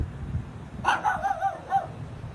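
A small dog barks in a short run of four or five yips, fairly close and outdoors, with a low rumble of background noise underneath.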